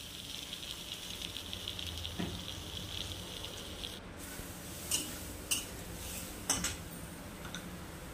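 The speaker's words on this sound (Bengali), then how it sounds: "দিয়ে ভালো করে এবার নাড়াচাড়া করে মশলাটাকে কষাবো।" Cumin and chili paste frying in a pan in a home kitchen, a faint steady sizzle with occasional sharp clinks and scrapes of a stirring utensil against the pan.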